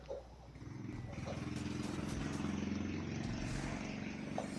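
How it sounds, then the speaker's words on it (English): A motorcycle engine in the video game Destiny 2 gives off a low, steady rumbling drone that swells slightly and then holds, fairly faint overall. "very attractive sounding motorcycle"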